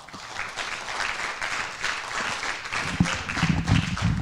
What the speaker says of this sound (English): Athletes, give your parents a round of applause.